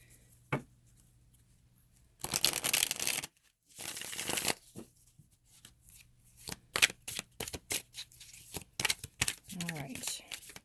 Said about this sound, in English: Let me give one more shuffle.